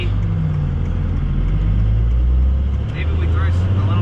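A 12-valve Cummins diesel swapped to a variable-geometry turbo, heard from inside the vehicle as a loud, steady low drone with engine and road rumble throughout, while people talk over it.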